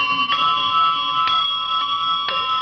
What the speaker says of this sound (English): Kids, what do those bells mean?